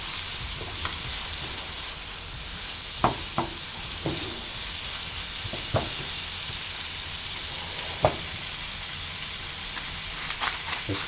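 Taco meat seasoned with Mexican spice blend, salt and pepper sizzles steadily in a pan, a continuous close frying hiss broken by a few sharp clicks and taps from stirring.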